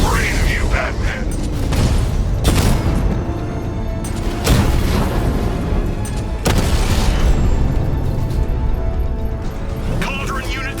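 A destroyed Cauldron tank unit bursts apart in Batman: Arkham Knight, loud booming blasts recurring every couple of seconds over dense, continuous rumbling game action and effects.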